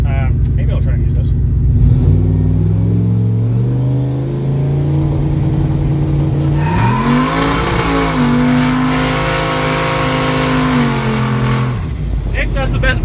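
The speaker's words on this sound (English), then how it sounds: "Hands down the best burnout you've ever done." A farm drag truck does a burnout, its engine roaring steadily and climbing in pitch as it revs, loud and close for most of the run, with people's voices heard alongside.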